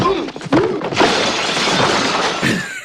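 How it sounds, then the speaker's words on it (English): Loud glass door shattering as a bodyguard is shoved through it in a movie scene, a sharp crash followed by a long spray of breaking glass and debris. "he smashes Loja's bodyguard through a glass door"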